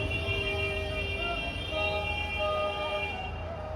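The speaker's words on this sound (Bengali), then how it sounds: "পেছনে হর্ন বাজাচ্ছে" Vehicle horns sounding at a busy bus stand, sustained tonal honking layered over a steady low traffic rumble and crowd din.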